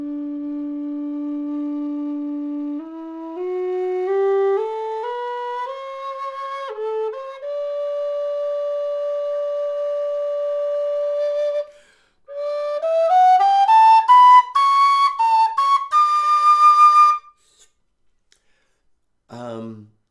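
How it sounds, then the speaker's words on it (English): A Clover Flutes low D whistle made by David Furman plays a rising scale of clear, pure sustained notes, climbing step by step into the upper register with some quick ornamented runs near the top, then falling silent before a brief low noise at the end. "introducing this beautiful whistle by David Furman at Clover Flutes"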